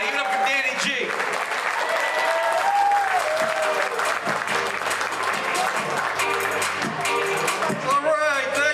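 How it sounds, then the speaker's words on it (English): Sustained applause and cheering from a live audience at a New Year's Eve stand-up comedy show, loud and continuous clapping from a crowd with excited voices mixed in near the end. "Start clapping, start clapping. Give it up, give it up, give it up."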